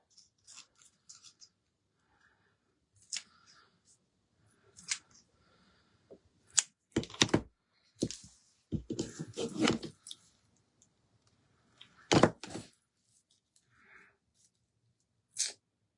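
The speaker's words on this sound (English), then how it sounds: "Let me cut a little bit of this down." Scissors snipping scrap material during a wooden pumpkin craft, heard as sparse, crisp clicks and cuts, faint and close, in a quiet room with short pauses between snips.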